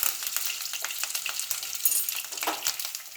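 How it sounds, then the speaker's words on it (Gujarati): Curry leaves and mustard seeds sputter in hot oil for a Surat-style rasawala khaman tempering, with dense crackling pops and sharp spits that crowd together throughout, loud and close with no talk. "10 લીમડાના પાન નાખીશું।"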